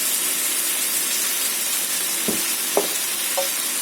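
Baby corn Manchurian stir-frying in a pan with soy, tomato and chilli sauces, a steady loud sizzle throughout with a few brief clinks of a spatula near the end.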